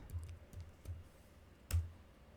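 A computer keyboard is used to type a command, with a handful of soft, close key clicks in an uneven rhythm and one firmer final keystroke, alone in a quiet room.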